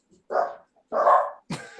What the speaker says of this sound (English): Dogs will be dogs.